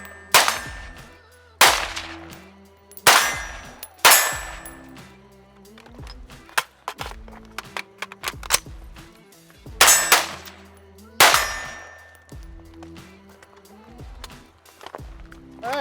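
Rapid shots from an IWI X95 rifle ring out as sharp, loud cracks in uneven bursts, each followed by bright metallic clanging of brass casings bouncing nearby.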